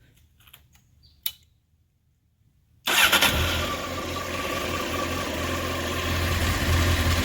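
A 1993 Honda CBR900RR California-spec motorcycle fires up after a few faint clicks, then settles into a steady, smooth idle that stays loud and close.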